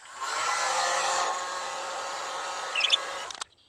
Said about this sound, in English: Heat gun, low setting.